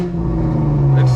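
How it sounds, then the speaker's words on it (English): Loud Chevrolet Camaro engine revved, heard from inside the car, a steady deep droning exhaust note held close and rising slightly in pitch at the end. "I'll give you one more rev from the cockpit so that way you guys can hear it"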